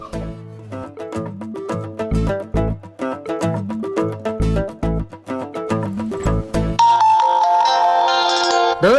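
A loud, melodic phone ringtone plays a repeating tune for several seconds, then switches to a brighter tonal chime.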